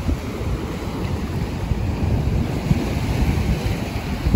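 Ocean surf washing onto a beach in Sri Lanka, a steady broadband roar with continuous wind buffeting the microphone and no talk.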